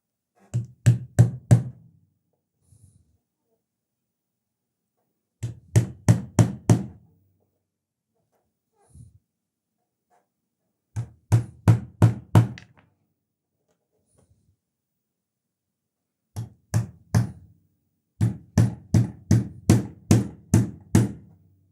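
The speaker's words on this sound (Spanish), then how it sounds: "Los remacha bien con el martillo para que queden bien firmes y no se aflojen" A hammer driving nails while building a homemade TV antenna: quick bursts of four to eight sharp, evenly spaced strikes separated by pauses, close and clear with no talk.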